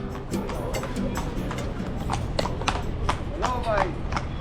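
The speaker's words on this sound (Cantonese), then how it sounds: "有馬車啊！" A horse-drawn carriage passes near a beach in England, its hooves making a rhythmic, fairly close clip-clop while people chat excitedly over it.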